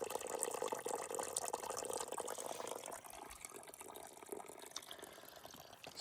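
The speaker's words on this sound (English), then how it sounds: "someone put a leaf there, so that makes a little spot where you can fill your water" Spring water trickles steadily over a leaf placed as a spout on the Appalachian Trail, a continuous soft splashing and dribbling heard up close and alone.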